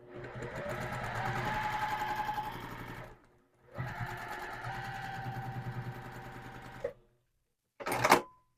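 Quilt block fabric runs through a sewing machine in two long bursts of rapid, close mechanical stitching separated by a short pause, followed by a brief sharp clatter.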